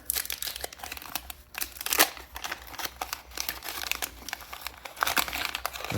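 A 1989 Topps baseball wax pack being torn open by hand, continuous close crinkling and crackling of the waxed paper wrapper with sharper tearing peaks, fairly quiet overall.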